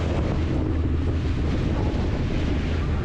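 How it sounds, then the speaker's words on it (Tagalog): Heavy surf of large waves crashing on rocks churns and roars continuously, with strong wind buffeting the microphone and masking individual wave crashes. "grabe sa laki ng alon. Tapos hakampas doon"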